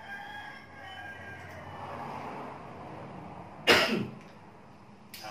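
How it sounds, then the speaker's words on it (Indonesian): A single loud, close cough bursts out after a stretch of quiet room noise, with a second short cough or throat sound starting at the very end; no speech is heard. "maaf lagi batuk sedikit ya"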